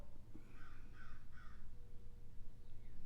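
A crow caws three times in quick succession from outdoors, moderately distant and clear over a steady low background rumble.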